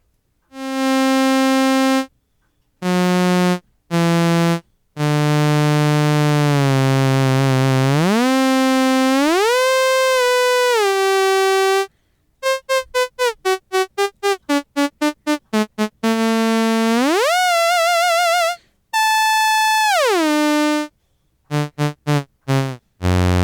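The sawtooth oscillator of a Therevox ET-5 synthesizer plays a bright, buzzy tone in held notes, swooping pitch glides and rapid staccato bursts. Loud and solo, with no talking.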